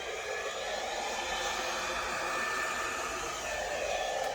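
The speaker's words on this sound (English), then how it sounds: "It's a blow dryer, and it's one of the main tools that we use." A blow dryer blows steadily on freshly poured acrylic paint in a Dutch pour, a loud, continuous close-up whoosh of broadband air noise with no talk.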